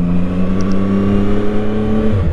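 A CF Moto 675 SR-R motorcycle engine hums steadily nearby with a deep, even drone, rising slightly near the end as it revs.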